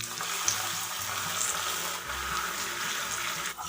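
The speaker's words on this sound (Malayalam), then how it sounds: "ഇതൊരു 3/4 കപ്പ് വെള്ളം ഒഴിക്കുന്നുണ്ട്." Water poured into hot caramelized sugar for a carrot dates cake, a continuous close rushing pour with a hissing bubbling edge lasting several seconds, no talking.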